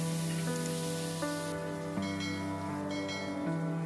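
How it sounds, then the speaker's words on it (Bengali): Pumpkin pieces seasoned with salt and turmeric fry in oil, giving a steady close hiss-like sizzle that thins after the first moments, with a tonal melody playing over it throughout. "এবারে কুমড়োগুলোকে ভেজে নিব 3 থেকে 4 মিনিট ধরে"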